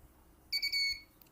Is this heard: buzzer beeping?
yes